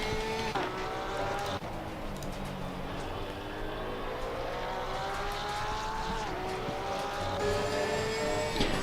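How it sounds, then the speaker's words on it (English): A race car engine in Assetto Corsa Competizione laps Silverstone, droning loud and steady with rising and falling revs and sharp gear-change shifts throughout. "And the car here is indeed rotated on the throttle."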